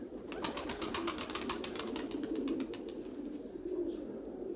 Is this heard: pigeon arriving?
yes